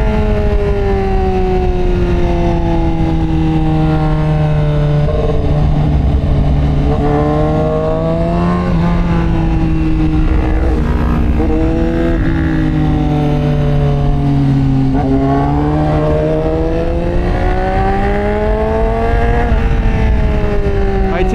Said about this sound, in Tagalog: Masyado lang galit yung engine, pero kaya naman.